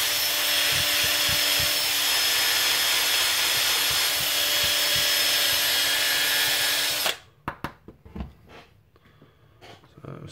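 A power drill runs steadily, enlarging the bore of a brass breech for a Nerf Retaliator blaster, close and loud for about seven seconds, then stops abruptly, leaving a few small clicks and handling knocks.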